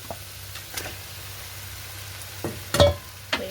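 A spoon scrapes through food mixed with yogurt in a pan, giving a few soft, separate stirring strokes over a faint, low sizzle.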